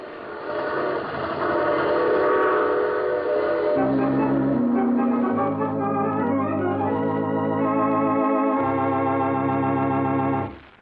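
A passenger train rumbles along steadily in an old radio drama, with sustained whistle or horn tones sounding over the running noise, loud and continuous throughout.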